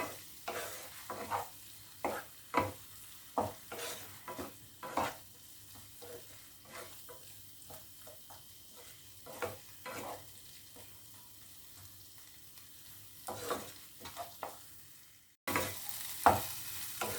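Onion masala frying in a pan with a pinch of sugar, stirred repeatedly so a soft sizzle runs under a series of close, rhythmic spatula scrapes and taps, with a louder burst at the end.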